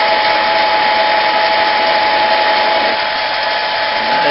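A Harbor Freight 7x10 mini metal lathe turns a workpiece under power feed. Its motor gives a loud, steady whine and a constant hum that run unchanged for the whole stretch, with no talking.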